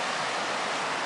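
Rock Creek, a mountain stream on the approach to Mount Mills, rushes in a steady, broad hiss of flowing water for a brief moment, close and even with no voices.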